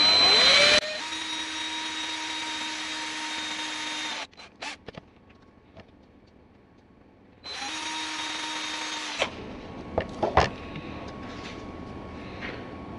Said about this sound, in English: Starting with a small drill bit and slowly go bigger.